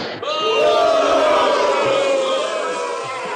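A crowd roars in a loud, sustained cheer of many voices that swells in quickly and holds near full strength to the end, like a stadium erupting.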